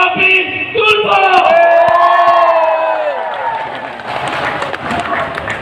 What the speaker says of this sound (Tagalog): Isang malakas na sigaw at isang palakpakang malakas, Rapid Tulfo!